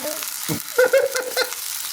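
Burger patties are pressed down with a spatula in a frying pan, producing sizzling mixed with a few scraping thumps, and a voice is heard faintly over the cooking.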